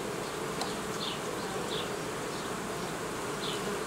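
Honeybees buzz steadily and close around a hive frame with a queen, a dense droning hum with individual bees whining past now and then.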